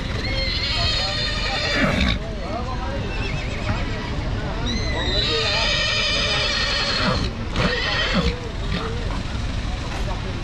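Horses neighing and whinnying amid a busy outdoor crowd at the Bac Ha horse market, with loud repeated whinnies rising over constant chatter, hoof clatter and nearby traffic.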